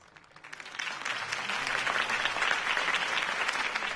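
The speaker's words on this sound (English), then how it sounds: "If only Mr. Wayne, my campaign's largest backer, could have heard that applause" Crowd applause in the Batman Telltale Series game rises after a brief quiet start and then holds steady, a dense, even clatter of clapping with no speech.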